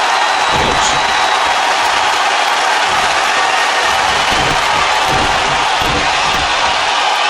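A wrestling video game crowd roars and cheers steadily throughout, a dense continuous wash of arena noise with a few whoops rising out of it and no quiet breaks.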